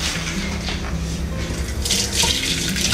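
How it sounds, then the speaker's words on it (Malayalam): Water from boiled tapioca pours off steadily into a sink in a continuous close splashing rush, growing brighter and louder toward the end, with no voices. "ഇനി വെള്ളം ഒന്ന് ഊറ്റിക്കളയട്ടെ."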